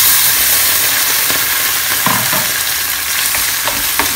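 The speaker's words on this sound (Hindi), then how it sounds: "अभी मैं ये जो मिक्स वेज सब्जी है मैं इसमें डाल रही हूँ" Boiled mixed vegetables hit a pan of frying onions for pav bhaji, making a loud, continuous close-up sizzle and hiss with a few light stirring knocks near the end.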